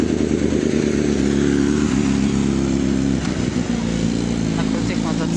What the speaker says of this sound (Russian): На крутых мотоциклах.